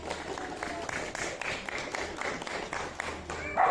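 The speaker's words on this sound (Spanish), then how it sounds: "El aplauso, por favor." Audience clapping at a charity wrestling show raising funds for a dog shelter, a steady broadband patter of many hands lasting throughout, moderately loud with a slight swell at the end.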